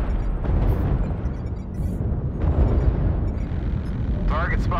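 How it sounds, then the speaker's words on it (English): Heavy booming artillery explosions rumble continuously in a tank battle video game, a dense low roar with repeated impacts, while a game voice speaks over it. "Artillery strike activated."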